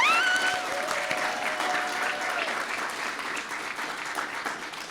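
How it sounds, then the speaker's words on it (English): A crowd at a school intern celebration ceremony breaks into a big round of applause, dense clapping that holds steady throughout, with a brief whistle or squeal near the start. "let's give her a huge round of applause"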